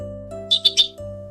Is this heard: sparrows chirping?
yes